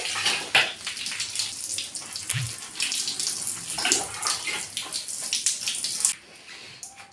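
Running water rinses shampoo out of hair, a continuous close splashing hiss with uneven spatters as it hits hair and skin, easing slightly near the end.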